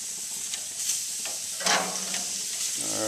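Shrimp sizzles steadily on a grill during an instant ramen surf and turf cook, with a continuous bright frying hiss and a few louder crackling bursts, close and alone.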